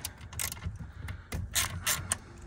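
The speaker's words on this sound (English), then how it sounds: "quarter inch drive ratchet with 8 millimeter socket for these bolts here." A quarter-inch drive ratchet with an 8 mm socket turns bolts on a Ford F350 dually truck, giving several short, sharp clicking bursts close by in quick irregular strokes.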